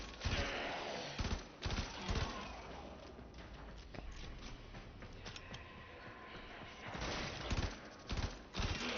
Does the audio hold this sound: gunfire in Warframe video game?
yes